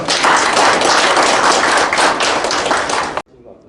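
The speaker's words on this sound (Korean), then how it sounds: "힘차게 박수 쳐주시기 바랍니다." A burst of enthusiastic applause from a crowd opening a committee meeting, dense and steady for about three seconds, then abruptly cut off.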